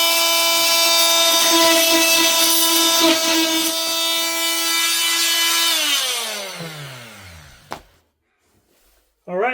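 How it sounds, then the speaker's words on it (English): Drywall being sawn to open a wall cavity, a loud steady rasping cut running for about six seconds before it tapers off into quiet, with a brief knock near the end. "since this piece of drywall is actually tucked behind here, we're actually going to cut it short with enough space to get access here"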